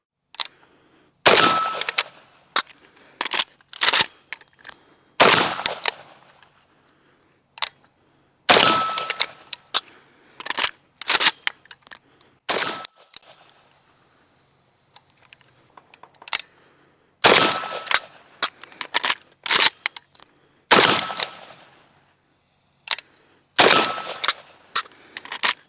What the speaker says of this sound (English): why don't we do each one of these reloads live firing